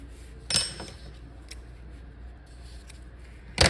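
Scissors snip a crochet yarn end on a simple bag, two sharp close clicks about three seconds apart over quiet background.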